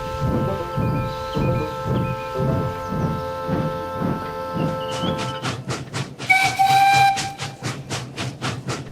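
Train engine in the Trainz video game setting off, with rhythmic chuffing that steadily quickens under a sustained whistle tone, then a second, sharper whistle blast near the end, fairly loud and alone.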